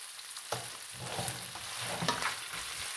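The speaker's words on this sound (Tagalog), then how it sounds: "Yan, prito natin konti guys." Leftover roast lechon lamb fries in a pan with a loud, steady sizzle and crackle, close up, with occasional stirring scrapes and no talk.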